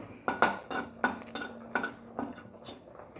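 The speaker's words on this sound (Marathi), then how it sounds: "एकसारखं आपल्याला बेसन हलवत राहायचं आहे" A spatula repeatedly scrapes and knocks through gram flour roasting in a pan, about eight crisp metallic strokes in an uneven rhythm, close but fairly quiet, with no talking.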